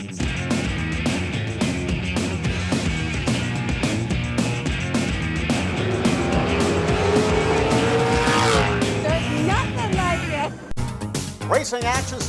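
Race cars at a 1996 Saturday-night race at Elko, with loud engines roaring and revving, tires squealing, and an announcer talking over the track noise throughout.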